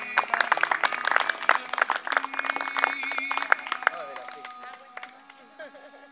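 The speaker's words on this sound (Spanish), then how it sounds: "Así que adelante, el aplauso para ella." Audience at a poetry reading gives a round of applause for a poet, dense clapping from a room crowd that thins and fades out over several seconds.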